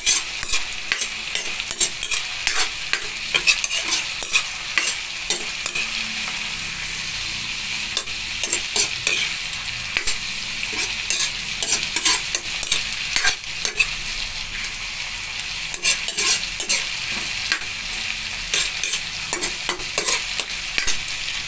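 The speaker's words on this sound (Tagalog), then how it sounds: "gigisay natin siya para maluto at pumula yung hipon" Shrimp, halved lengthwise, sizzle steadily in a pan on the stove for a gourd and vegetable soup, with continuous frying crackle and occasional stirring scrapes throughout, loud and close with no voices.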